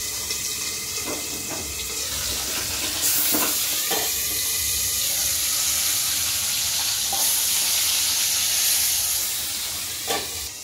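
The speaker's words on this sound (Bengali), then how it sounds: "তেল গরম হয়ে গেছে, মাছ দিয়ে দেবো।" Fish frying in hot oil in a wok gives a steady, loud hiss that fills the whole stretch, with occasional scrapes and clatters; no voices.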